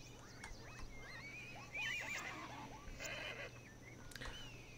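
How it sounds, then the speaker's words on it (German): Horses neighing in the video game Zoo Tycoon 2: a clear whinny rises in the middle, with softer horse calls and a faint farm-animal ambience around it and no talking. "Oh, wir haben noch die Pferde."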